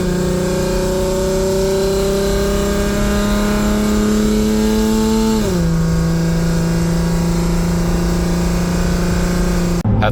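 Straight-piped, catless Lexus IS 250 with an x-pipe holds a loud, sustained drone of exhaust as the revs climb smoothly, dip briefly, then settle into a steady high note, heard from inside the car.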